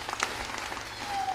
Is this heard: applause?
yes